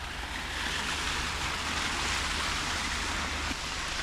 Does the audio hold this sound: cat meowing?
no